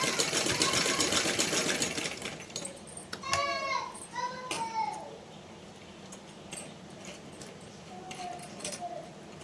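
A sewing machine runs in short bursts while stitching a Laddu Gopal dress, with a cat's meows and faint household noise around it.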